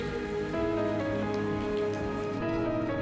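Steady rain patters on a surface nearby, a continuous even hiss with no voices.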